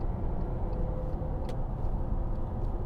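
Steady low engine drone from a 2009 Audi A6 Avant 2.7 TDI Le Mans with Multitronic gearbox as it pulls away under throttle, heard from inside the cabin with a constant road rumble and no sharp changes.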